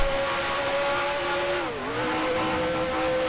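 A race car engine in the Grand Prix Legends racing game, a steady high revving drone that dips briefly as it shifts through a corner and then climbs again, heard close and continuous with no talking.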